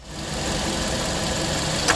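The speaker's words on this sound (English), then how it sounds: "That click indicates that the AC compressor clutch has been activated" A Kia Sportage engine idles with a steady, even rumble, and a single sharp click from the AC compressor clutch engaging lands near the end.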